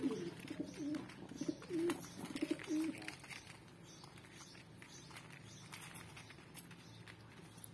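Pigeon approaching scattered grain, a few soft low coos early on over quiet outdoor background rustle and faint distant noise, close but gentle, with no talk.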